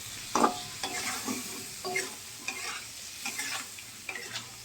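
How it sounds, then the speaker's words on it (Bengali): Spice paste of tomato, chilli powder, salt and turmeric fries with a splash of water for a fish curry, giving soft sizzling under repeated spatula scrapes that come in short, uneven bursts close by. "একটু জল দেব দিয়ে মশলাটা ভালো করে কষাবো"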